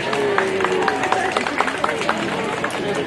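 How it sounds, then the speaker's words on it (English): Audience clapping at an outdoor children's contest at the Tuscarora Nation picnic, a steady crowd patter with scattered sharper claps, mixed with murmuring voices and a tonal hum throughout. "let's give Raina a round of applause"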